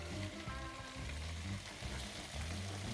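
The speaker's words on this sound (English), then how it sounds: "we're going to add our vegetables. So first we have our Trinity" Diced celery, onion and green pepper sizzle in a gumbo pot, a dense steady crackle of frying heard up close and alone.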